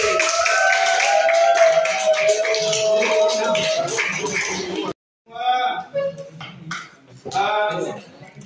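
Students clap in a classroom, a short patter of hand claps mixed with chatter and shuffling, then a brief silence and a few more scattered claps and voices.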